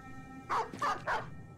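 Three quick barks from a dog in the Battle Brothers video game, sharp and evenly spaced, fairly quiet over a faint background hum.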